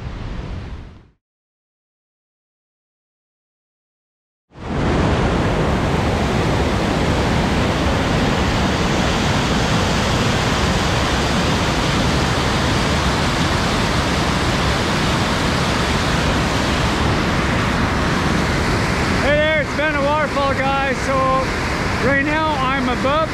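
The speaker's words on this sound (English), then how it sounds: "I'm standing right at the top of the Great Falls Indian River." Great Falls on the Indian River, Cape Breton, roars as a loud, steady, broadband rush of falling water that cuts in after a brief silence and carries on unbroken, with faint bird-like chirps near the end.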